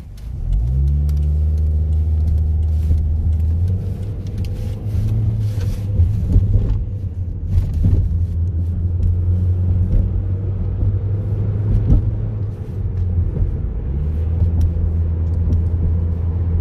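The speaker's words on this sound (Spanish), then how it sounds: "Un carro." A car engine hums and rumbles close by with a low steady drone, rising and falling as the vehicle passes on a street in Green Bay, Wisconsin, with no talk over it.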